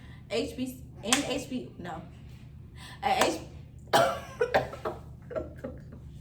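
Several sharp coughs come in bursts, close and fairly loud, with short pauses between fits.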